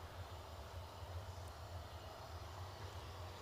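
An Embraer Praetor 600 business jet at Newcastle Airport produces a steady distant engine roar, a broad even rumble holding constant throughout with no speech.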